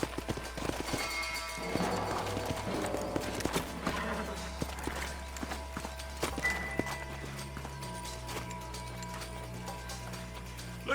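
Horses in the video game Red Dead Redemption walk with soft, steady hoof clops amid faint ambient noise and scattered clatter, fairly quiet throughout.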